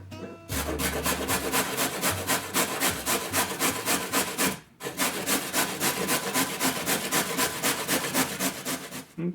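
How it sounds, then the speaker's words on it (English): Carrots grated against a metal grater in quick, regular rasping strokes, loud and close, with one brief pause midway before the steady scraping rhythm resumes. "So we're gonna start by grating some carrots."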